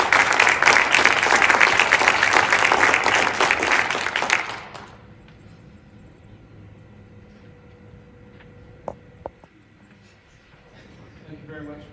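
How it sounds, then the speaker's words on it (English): Audience applause at a high school senior signing day, loud sustained clapping filling the room for about four seconds, then stopping abruptly, leaving a quiet room with faint murmurs and a couple of small knocks. "why don't we give them all a round of applause?"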